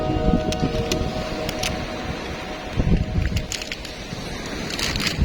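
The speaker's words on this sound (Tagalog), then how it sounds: "Lakas pa rin ang hangin, oh." Steady broadband wind roar on a beach in Anda, Bohol, buffets the microphone throughout, with gusty surges and some rustling, no voices.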